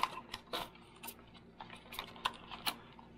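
Someone folds the arms of a Hubsan Zino Pro Plus drone, making a quick series of light plastic clicks and taps, close and fairly quiet.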